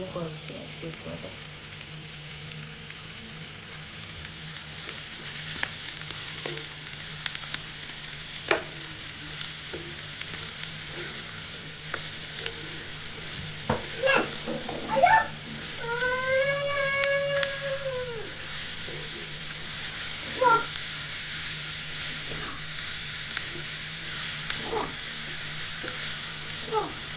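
Beef sizzles steadily in a pan with ginger garlic paste and green chilies, with occasional scraping clicks from stirring and a brief whining sound partway through.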